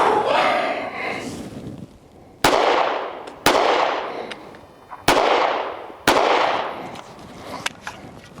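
Sharp pistol shots from a compact HK CC9 handgun crack out at an outdoor range, about five loud reports spaced roughly a second apart, each trailing a short echo, with a brief voice before the shots.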